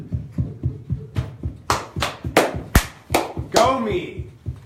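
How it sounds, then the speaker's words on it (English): A small podcast group claps for a guest, about a dozen sharp, close hand claps in a quick, uneven run, building louder, with a voice cutting in near the end. "Give it a round of applause to Todd Baysinger."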